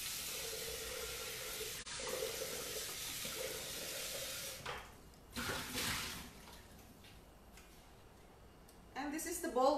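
Tap water runs steadily as a Thermomix lid is rinsed under it, a continuous hiss that breaks off midway, then returns with splashes and clatter, while a person talks over it.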